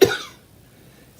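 A single sharp cough at the start, close and fairly loud, then fading into quiet room tone with a faint sound near the end.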